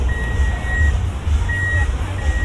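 A Toyota Zenix hybrid's power tailgate closing, with three steady high warning beeps repeating over a low mechanical hum.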